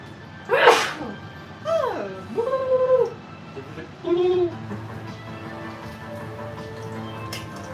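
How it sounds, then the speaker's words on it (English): A single sharp sneeze bursts out near the start, followed by a few high, whiny vocal sounds and then quiet background. "I think I have to sneeze."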